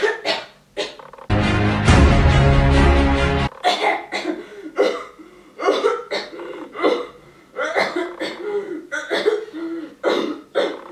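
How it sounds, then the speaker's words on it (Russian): A boy coughs repeatedly during an exam, a long series of harsh, close coughs and throat clearing in irregular bursts, broken by a loud blast of noise early on. "меня начинает бесить кашляющий пацан"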